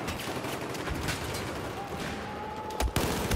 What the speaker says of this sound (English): Oh, I'm getting shot from somewhere.